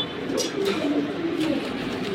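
Pigeons, military and silver hammer breeds kept in a loft collection, coo softly in a steady low murmur throughout, with faint rustling and no talk.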